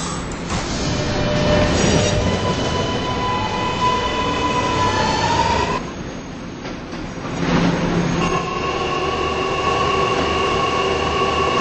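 An R211 subway car on an R local train runs along the track with loud rumbling, rising whines and wheel screech, dips briefly, then rumbles on again with a steady motor tone.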